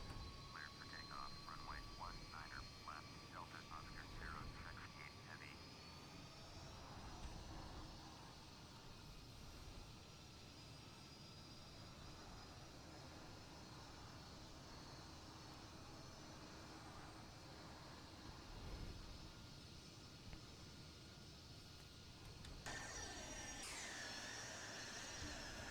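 Steady jet engine roar from a McDonnell Douglas DC-10 trijet airliner of United Airlines lining up on the runway at Las Vegas McCarran for takeoff, heard from inside the cabin as a continuous broadband drone, with a brief clatter near the end.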